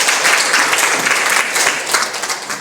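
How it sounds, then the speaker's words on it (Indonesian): Steady applause from a seated audience at a managerial workshop for vocational school principals in Bandar Lampung, Indonesia, a dense, even wash of clapping filling the whole stretch at a fairly close, loud level. "Tepuk tangan untuk Lampung"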